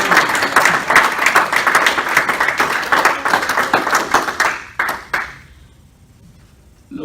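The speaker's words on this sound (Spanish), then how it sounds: "Dale el aplauso al Señor." A church congregation applauds in a loud, dense wash of clapping that holds for about five seconds, then breaks into a few scattered final claps and falls nearly silent.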